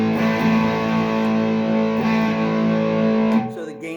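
An AJ Spirit electric guitar with its humbucker split to single coil rings out a sustained distorted chord through an effects unit, loud and steady, with a new strum near the start before the sound drops off at the end.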